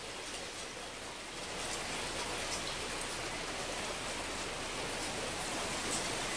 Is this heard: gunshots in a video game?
no